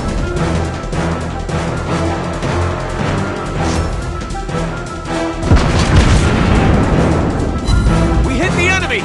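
An enemy ship blows up in a video game, a loud heavy boom swelling through dense game music and effects, followed by rumbling crashes.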